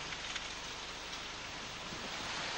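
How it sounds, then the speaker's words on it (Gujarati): Heavy rain driven by strong cyclone winds in Gir Gadhada, Gujarat, during Cyclone Tauktae: a dense, constant roaring wash of rain and wind that holds steady throughout, without voices. "ગીર ગઢડામાં ભારે પવન સાથે વરસાદ પડી રહ્યો છે"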